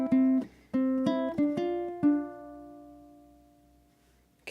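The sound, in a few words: ukulele playing bar 6 of a song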